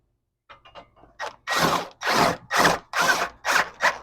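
Ratchet wrench cranking bolts into a tubular aftermarket subframe on a 1989–1997 MN12 Thunderbird, a few light clicks followed by six loud, close bursts of rapid ratcheting in a steady rhythm.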